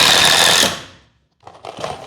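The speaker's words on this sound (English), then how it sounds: "Screw this thing together." A power drill drives screws into a scrap-wood bow caddy in a loud, dense burst that fades out, followed by a brief pause and then quieter intermittent handling noises.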